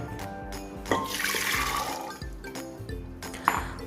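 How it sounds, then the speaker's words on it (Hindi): Soaked chickpeas are tipped into a pressure cooker with wet splashing, sloshing water and small hard clinks against the metal pot, in a few uneven bursts close at hand. "तो इन भीगे हुए चनों को सबसे पहले हम प्रेशर कुकर में ट्रांसफ़र करते हैं"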